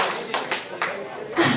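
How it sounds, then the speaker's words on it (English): A workshop audience claps in response to a call, giving a few sharp, separate claps with short gaps between them, mixed with a little voice in the room. "Clap twice if you can hear me"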